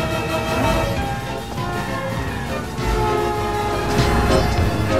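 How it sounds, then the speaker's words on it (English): A train rumbles close by while its horn blares in sustained, loud blasts, the sound swelling as it draws nearer. "There's another train coming."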